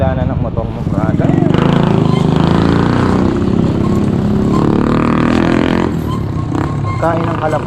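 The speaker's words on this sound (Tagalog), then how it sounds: "Sigla na ng motor mo, Prada." A motorcycle engine idles and runs loudly close by in a busy public market area, a steady rough chugging throughout, with people talking over it.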